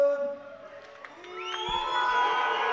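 Home crowd at the Strandja 2022 international boxing tournament finals reacting to a split decision, a swelling roar of boos and shouts rising and holding, with a tonal ring and announcer voice beneath.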